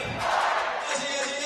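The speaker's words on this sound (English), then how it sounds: "Listen to this crowd." Arena crowd at a wheelchair rugby world championship match roars in a dense, sustained wall of cheering and shouting.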